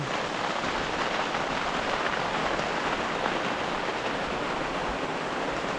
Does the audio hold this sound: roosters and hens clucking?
no